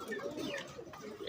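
Pigeons in a keeper's collection coo softly in a brief, faint burst of low, throaty calls.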